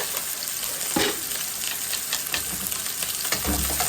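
Fish fillets sear and fry in a hot pan with onion, giving a steady dense sizzle throughout, with a few sharper spatters and stirring scrapes rising over it.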